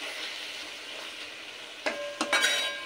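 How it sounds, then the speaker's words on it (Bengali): Pieces of bacha fish sizzling in a pan with spice paste, a steady close fry hiss broken near the end by a few clattering stirs of a utensil against the pan. "মাছের গন্ধ যাওয়ার জন্য মাছটাকেও একটু ভালো করে কষাতে হবে"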